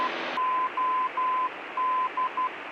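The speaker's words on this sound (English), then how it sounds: "Morse code also tells you it's operational." Morse code identifier of the Modesto VOR radio beacon: a steady tone keyed in a rhythm of long and short beeps, clear and alone over a hissy radio background.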